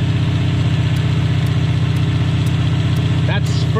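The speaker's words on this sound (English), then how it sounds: "this car has been idling for 15 minutes, almost 20 minutes already at least" A car engine idles steadily up close, its low rhythmic rumble running throughout with a brief clatter near the end.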